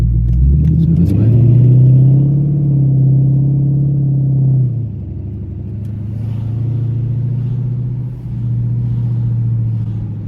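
A Dodge SRT8 Challenger with a Diablo 93 tune drives along in traffic, its deep engine rumble loud and steady from inside the car, with a brief dip in the note midway.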